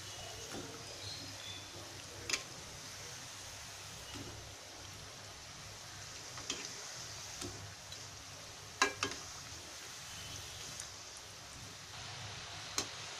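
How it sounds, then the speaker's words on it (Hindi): Green pea medu vada frying in hot oil, a quiet, steady sizzle with faint bubbling and occasional soft crackles throughout. "अच्छा क्रिस्पी होने तक हम तलेंगे"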